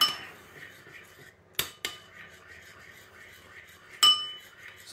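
Utensil stirring a vinegar mixture in a bowl while making dinakdakan, giving a few sharp metallic clinks against the bowl over a soft kitchen background, with no talk.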